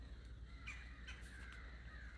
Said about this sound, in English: Crows over there too.